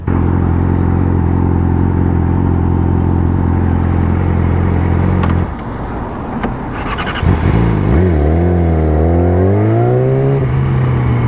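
Yamaha R6 600cc motorcycle idling with a steady, loud rumble before the engine revs up and rides off, its pitch rising and falling through several gear changes as it pulls away.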